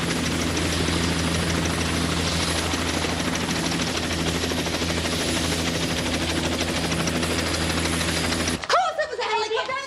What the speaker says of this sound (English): Oh, sure, helicopters drop in here all the time.